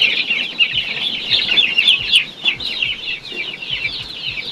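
Chicks peep steadily in a pen, a dense, close chorus of high chirps with a few soft thumps underneath.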